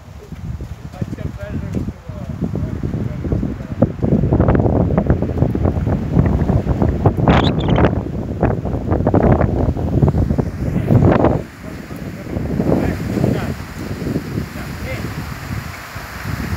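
Strong outdoor wind buffets and roars across the microphone in continuous gusts, loud and close, with people talking beneath it.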